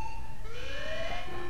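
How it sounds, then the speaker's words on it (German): An alarm siren blares in the Warhammer 40k Space Marine video game, a steady wavering tone that rises and falls over a noisy rumbling background, close and continuous. "Alarm. Gebäudeschäden. Warnung."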